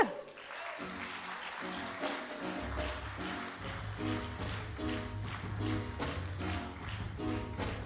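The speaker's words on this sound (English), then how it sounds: "So I want you to put your hands together first for the band." A church congregation at a harvest service applauds the band, steady loud clapping mixed with music carrying on beneath it.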